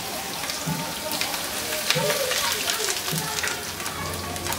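Grated ginger frying in hot oil in a pan, a continuous crackling sizzle with soft popping, steady and close.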